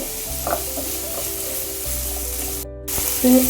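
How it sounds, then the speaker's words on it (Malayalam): Finely chopped large onion hitting a hot pan for chicken and vegetable pasta, giving a steady close sizzle with brief stirring scrapes, a short dropout near the end, then the frying resumes louder. "ഇതിലേക്ക് സാമാന്യം വലിയൊരു സവാള ചെറുതാക്കി അരിഞ്ഞത് ഇട്ട് കൊടുക്കാം"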